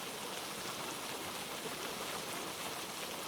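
Rain falling steadily, a dense, even hiss of drops that stays at the same level throughout, with no voices or other sounds.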